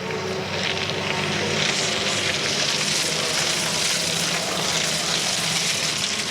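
A damaged WTCC touring race car limps along with gravel lodged in it, a steady rough, broadband rumble and rattle holding constant throughout without pause.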